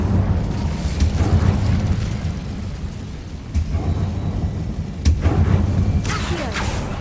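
An Incendio fire spell cast in Hogwarts Legacy, a loud, deep whooshing roar of flame with rumbling bursts that swell and surge several times, punctuated by sharp cracks and crackles.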